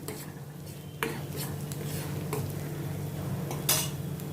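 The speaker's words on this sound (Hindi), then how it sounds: "इनको मैं प्याज के साथ मिक्स करती हूँ, सौते करती हूँ।" Onion and ginger paste sautéing in a pan: a soft sizzle under repeated spoon scrapes and clinks against the metal, with a few sharper knocks, up close and without speech.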